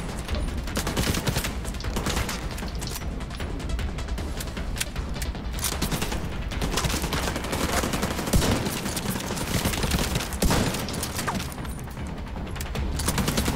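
Nearby gunfire in a PC video game set in plague-devastated villages, dense bursts of rapid shots rattling continuously and loudly throughout, with crashing impacts mixed in.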